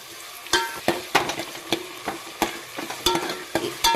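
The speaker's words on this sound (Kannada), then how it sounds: "ಈರುಳ್ಳಿಯನ್ನು ಹಾಕಿಕೊಳ್ಳೋಣ. ಇದನ್ನು ಚೆನ್ನಾಗಿ ಕಂದು ಬಣ್ಣ ಬರುವವರೆಗೂ ತಾಳಿಸಿಕೊಳ್ಳೋಣ." Onions frying in hot oil in a pan, a steady background sizzle broken by sharp periodic scrapes and clinks of a spatula stirring against the pan.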